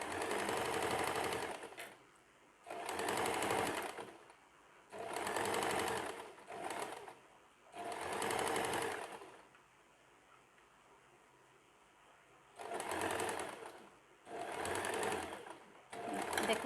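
Sewing machine stitching the seam of an XXXL night pajama, loud close whirring runs of rapid needle strokes in several bursts of one to two seconds, separated by quiet pauses.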